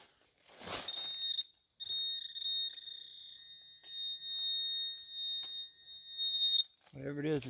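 A handheld metal detector pressed into a dug hole at an 1800s copper mine screams a steady, piercing high tone for several seconds, interrupted once, with a scraping thump before and a voice cutting in at the end.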